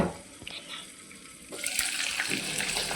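Water poured into a pan of stuffed eggplant curry, a steady splashing pour starting midway and filling the rest, close and fairly loud, after a quieter stretch of faint kitchen noise.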